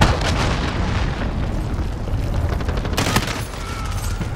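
Heavy explosions and gunfire roar through a Rust battle under a cruise missile attack, a dense, continuous barrage of booms and shots with a sharper impact near the end.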